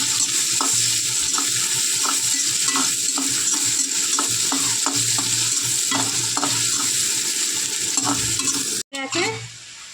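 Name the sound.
onion frying in a pan while being stirred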